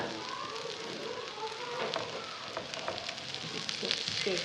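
Aloo bread fries in oil in a pan with a steady, quiet sizzle and crackle, continuous and close, with light popping throughout.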